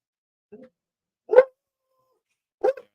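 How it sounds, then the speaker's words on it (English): A dog barks at a delivery person at the door: three short, sharp barks spaced about a second apart, fairly close and alone, with silence between them. "So now the dog is going crazy."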